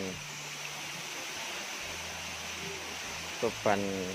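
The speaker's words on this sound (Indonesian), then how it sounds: "Kita akan melihat air terjun" The Coban Keranjangan waterfall in Desa Leduk, Prigen, Pasuruan gives a steady, broad rushing roar throughout, with brief voices breaking in near the end.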